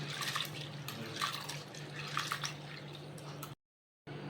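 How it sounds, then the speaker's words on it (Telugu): Sago pearls being washed in water for a sago halwa, with steady close splashing and trickling, faint dripping accents, and a brief dropout near the end. "1 కప్పు సగ్గుబియ్యం తీసుకుని వాష్ చేసుకోవాలి"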